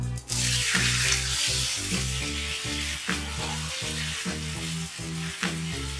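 Water is poured into hot oil holding fried chilli and fenugreek, a loud bubbling sizzle erupting at the start and then settling into a steady frying hiss, with faint clinks and no talk.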